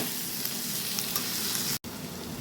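Tomato with salt and spices sizzling in a pan for a cabbage and potato curry, a dense continuous frying hiss with a brief dropout near the end.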